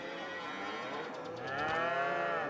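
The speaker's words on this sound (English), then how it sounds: "cows are making their way over" Cattle lowing in the Farming Simulator 22 game on a Montana map, a herd heading to feed with layered, sustained moos that swell louder in the second half over steady ambient farm noise.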